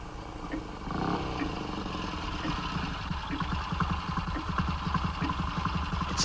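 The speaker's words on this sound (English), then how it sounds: "It's a motorcycle and sidecar. It's pulled up in the courtyard." A motorcycle with a sidecar idles in a courtyard, its engine thrumming in a low, steady, rhythmic putter at moderate distance, with no talk.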